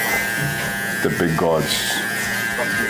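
Electric hair clippers used for a taper fade haircut buzz steadily and loudly right up close throughout, while someone talks over them.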